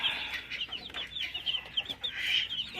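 A flock of young chickens clucks and peeps continuously at close range, with overlapping soft calls and a few louder chirps and no talking.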